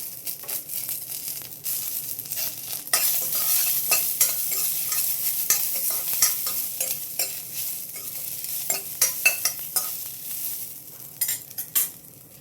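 Tempering of curry leaves and green chillies sizzles in a little oil while a spoon stirs it with scraping, crackly strokes, the frying hiss rising and falling throughout with no talk.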